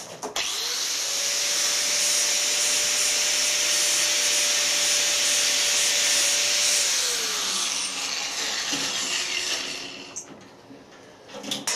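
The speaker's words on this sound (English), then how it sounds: "I'll just use an angle grinder to cut it." Angle grinder cutting through a band saw blade, a loud continuous high whine and abrasive grinding roar that holds steady, then winds down as the disc slows near the end.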